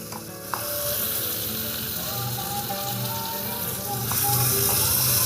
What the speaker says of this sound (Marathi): आता मग मी लसूण टाकणार.